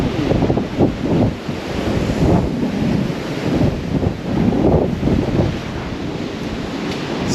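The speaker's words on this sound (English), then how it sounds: "So it's a bit windy, actually, a bit windier than I thought." Steady wind and ocean waves heard from a balcony on a Cunard cruise ship, a continuous loud rushing roar with gusty surges and buffeting against the microphone throughout.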